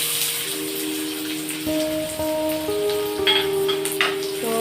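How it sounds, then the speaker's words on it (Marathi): Finely chopped onion hits hot oil and keeps frying in a steady, close sizzling hiss, with faint sustained tones running underneath. "तेल आता तापलेलं आहे तेव्हा अख्खा मोठा कांदा घेतलेला आहे बारीक चिरून तो आता मी याच्यामध्ये टाकतो"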